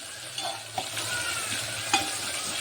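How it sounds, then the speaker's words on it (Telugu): Tempering sizzling in hot oil in a pan while cooking dal with raw mango, a dense continuous close hiss with a few soft clinks of a spoon, no voices. "తాలింపు మరుగుతుంది."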